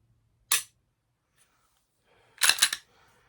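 A Glock G34 Gen 5 pistol is dry fired: a single sharp trigger click, then after a pause a quick cluster of mechanical clicks and clatter, close and crisp against near silence.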